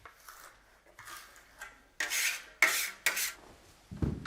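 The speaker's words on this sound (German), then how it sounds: "fährt mit der Kelle ein zweites Mal über die frisch gespachtelte Wand" Trowel dragged over freshly applied filler on a wall, a series of close, rasping scrapes in separate strokes of varying length.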